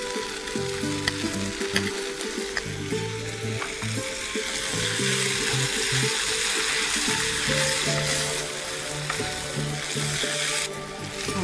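Spinach goes into a pan of risotto over the heat, giving a loud, continuous sizzle with stirring and scraping close by and no talk.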